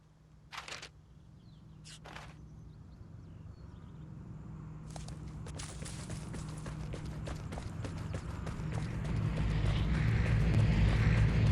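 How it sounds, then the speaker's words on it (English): Footsteps in a PUBG-style battle royale game, a few soft steps early followed by faster running steps that grow louder and closer, with a rising rumble of wind or a plane building behind them. "I heard footsteps."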